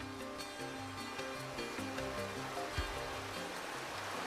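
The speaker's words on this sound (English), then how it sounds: "Rivers like this would have been vitally important. This is a salmon river." A salmon river flows steadily with a soft, continuous rush of water, heard at a distance and fairly quiet, with no voices.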